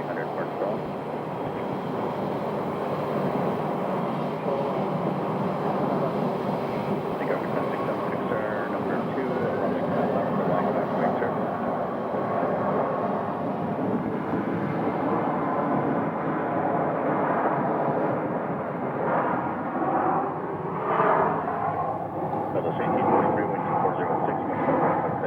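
A heavy UPS jet lifting off late from runway 25 Right at Phoenix Sky Harbor, its broad engine roar sustained and steady, mixed with wind noise and with people talking over it.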